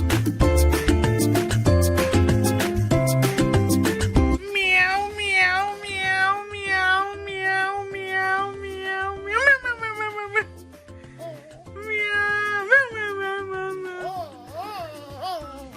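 A cat meows over and over in long, rising and falling cries, loud and close, after a few seconds of music at the start.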